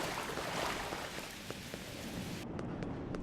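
Rain pours steadily on the planet Ryza in a video game, a dense, loud hiss of falling water with scattered droplet taps that cuts to quieter patter near the end.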